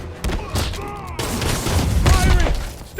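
Soldiers' gunfire in the Spider-Man PS4 game, a loud and dense burst of shots and booms with mechanical clanks that keeps going for the whole stretch.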